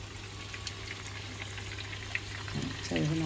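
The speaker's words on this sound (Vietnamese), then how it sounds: "Rán xong một đĩa đậu siêu to khổng lồ" Tofu frying in a pan, a faint, steady sizzle and crackle of hot oil, quiet and continuous, with a brief voice near the end.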